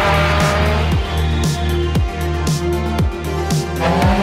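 A Volkswagen twin-engine race car storms up the Pikes Peak hill climb, its loud engine note repeatedly rising and dropping in rhythmic shifts as it charges close by, without any voices.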